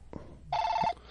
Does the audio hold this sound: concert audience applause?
no